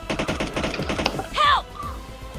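A quick string of sharp gunshots from PUBG Mobile rattles through the first second, then gives way to a brief whooshing, warbling effect and quieter game ambience.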